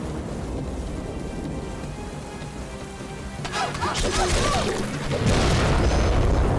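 Bomb explosions in the Dragon Fin Soup video game: heavy booming blasts that swell in the second half over a steady game soundtrack, growing louder toward the end.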